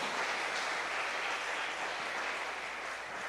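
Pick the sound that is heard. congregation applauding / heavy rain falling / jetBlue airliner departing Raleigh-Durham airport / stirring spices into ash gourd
congregation applauding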